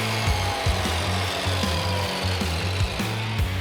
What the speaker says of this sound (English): we can cut our chromoly pushrod to length using the chop saw